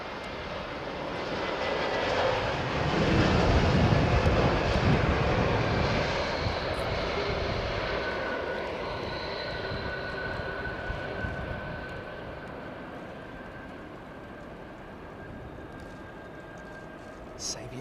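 A TAP Air Portugal airliner in retro livery at London Heathrow, its engine roar broad and steady, swelling early then easing slowly as it passes at a moderate distance.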